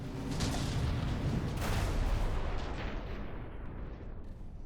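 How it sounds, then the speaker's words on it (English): APS cannon fire from warships in the From the Depths naval battle game, heavy distant booms and rumbling gunfire blending into a sustained roar that slowly fades. "That's a completely working APS cannon."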